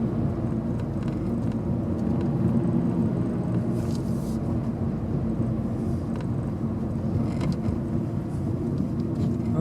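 An old car drives along with a steady low rumble and road noise that continues throughout, heard from inside or close by, with occasional faint clicks and no talking.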